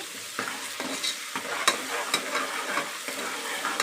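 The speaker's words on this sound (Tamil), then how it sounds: "வெங்காயம் நல்லா வணங்கிருச்சு. இஞ்சி பூண்டு பேஸ்ட்டு சேர்த்திக்கலாம்." Chopped onions with ginger-garlic paste being stir-fried in a pan for jackfruit biryani: a steady sizzle under repeated scraping spatula strokes, close and fairly quiet, with no talking.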